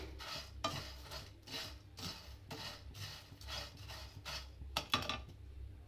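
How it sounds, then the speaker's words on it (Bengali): Jhuri bhaja being stirred and lightly fried in a pan over a low gas flame: a spatula rubs and scrapes in a steady rhythm of soft strokes, close and fairly quiet, with a couple of sharper scrapes near the end. "গ্যাসের আঁচটা অল্প করে একটু নাড়াচাড়া করে এটাকেই একটু সামান্য গরম করে একটু ভাজা ভাজা মতন করে নেব"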